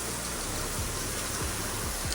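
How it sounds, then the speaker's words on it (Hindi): Steady hiss of rain falling, a constant wash of noise with faint low drips, no voices. "आपको तो दिखाऊँ बारिश हो रही है"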